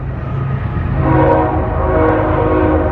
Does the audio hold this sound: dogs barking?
no